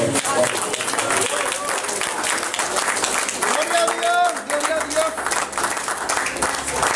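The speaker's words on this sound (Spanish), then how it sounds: "Denle un aplauso a Dios" A church congregation applauds in worship, sustained loud clapping lasting several seconds with voices speaking and calling out over the applause.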